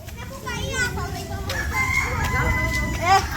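Rooster crowing in a Bangladeshi village during the rainy season, a few drawn-out crows close by over steady outdoor background noise, with a voice and children's sounds faintly mixed in.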